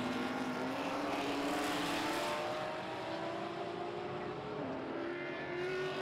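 Ford Mustang race cars on a circuit during a NASA race broadcast, their engines making a steady sustained roar whose pitch climbs slowly, dips, then rises again as the cars accelerate, with no talk.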